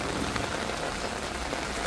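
Steady rain falling, a dense even hiss of drops on surfaces, close and constant with no voices.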